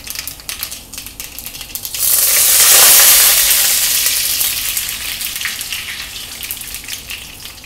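Mustard seeds and curry leaves hit hot oil for Kerala-style prawns with mango, bursting into a loud, bright sizzle that swells suddenly, then slowly fades with faint popping and crackling.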